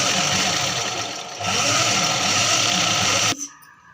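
A sewing machine stitches a cut-work blouse in a steady, close mechanical whir that shifts slightly partway through and cuts off abruptly near the end, with no talking.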